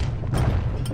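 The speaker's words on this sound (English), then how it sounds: "these explosions are gonna be the death of me" A heavy explosion booms in the video game Bastion, a dense, low rumbling blast that fills the whole short moment, with two bright crackling bursts on top.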